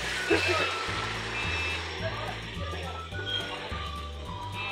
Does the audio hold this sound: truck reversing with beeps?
yes